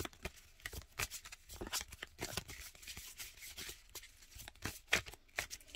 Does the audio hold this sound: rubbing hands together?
no